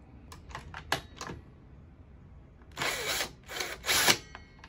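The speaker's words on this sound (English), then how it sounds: "We got to turn our Allen wrench, or in this case, my drill with an Allen wrench bit, clockwise." A power drill fitted with an Allen wrench bit whirs in short bursts, a few brief clicks first, then louder spins near the end, close by.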